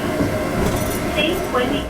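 A Toyama Light Rail tram pulls away on the single-track Toyama Port Line without opening its doors. A steady, fairly loud rumble of wheels and motor rolls on with faint squeals, and nobody speaks over it.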